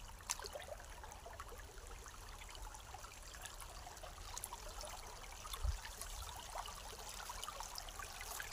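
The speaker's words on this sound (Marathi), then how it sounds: "इथं असं बंद केलं का पाणी जाते पुढे, पाणी इकडे फिरते." Irrigation water flows steadily through a farm channel where it is being blocked and diverted, making a soft, continuous trickling wash that stays faint and even throughout with no talk.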